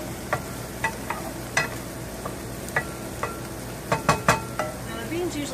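Garlic and beans sizzle quietly in a pan, a soft continuous frying hiss broken by scattered clicks and scrapes of stirring.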